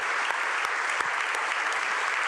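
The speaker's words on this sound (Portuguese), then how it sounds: "Vamos aplaudir o Senhor, que Ele merece" A congregation applauds, steady dense clapping that fills the whole stretch without pause, no voices standing out.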